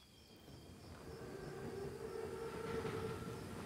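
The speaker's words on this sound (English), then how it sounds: "Train's right on time. Biggest train I've ever seen." An armored Panzerzug train approaches in a Call of Duty WWII game scene, a faint distant rumble that grows steadily louder, with a low tonal hum rising beneath it.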